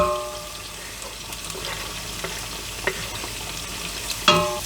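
Garlic is added to onions frying in a pan for Egyptian moussaka, with a steady loud sizzle and occasional soft stirring scrapes, ending in a brief clatter.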